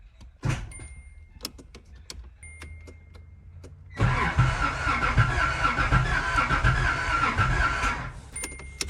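A Nissan 300ZX, started with a makeshift ignition key, cranks loudly and continuously for about four seconds after a few faint clicks and a brief whir, close by with no talking.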